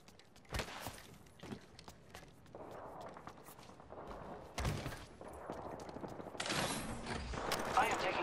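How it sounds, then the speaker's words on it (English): Video game gunfire heard as scattered sharp shots and short bursts at moderate distance, mixed with mechanical clicks and rustling movement, louder volleys toward the end. "I am taking fire."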